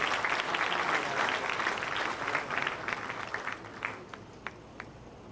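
An audience at a welcome and thanksgiving ceremony claps in a dense burst of applause that gradually thins out into scattered individual claps.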